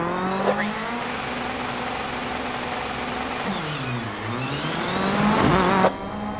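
Rally car in DiRT 4 pulling away onto the first special stage, engine note climbing steadily through the gears, with tire noise and a loud rising roar near the end.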